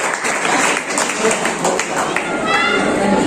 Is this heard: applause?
yes